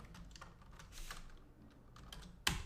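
Soft, close keystrokes tapping in quick irregular bursts on a computer keyboard while code is entered, ending in one sharper, louder key strike.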